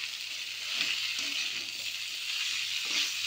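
Boiled jackfruit frying with spices and potatoes in a pan, a steady, loud, continuous sizzle with faint scraping stirs now and then, no voices.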